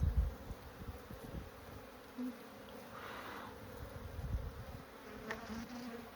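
Honeybees buzz angrily around open hives during a spring hive inspection, a steady close swarm drone that swells slightly midway, with a few faint knocks and no talking.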